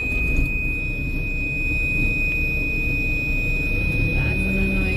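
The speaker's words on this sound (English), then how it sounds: "That's an annoying beep." A steady, high-pitched electronic warning beep inside a forage harvester cab sounds continuously over a low mechanical hum, unbroken from start to finish.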